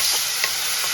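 Mushrooms sauté in a pan for soup, a close, steady hiss and sizzle with a few soft stirring pulses.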